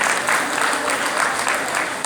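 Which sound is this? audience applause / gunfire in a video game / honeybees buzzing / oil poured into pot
audience applause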